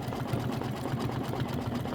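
An embroidery machine stitches out a Halloween-themed design with a continuous, even, rapid mechanical whir and rhythmic needle pulses, close and steady throughout, without any voices.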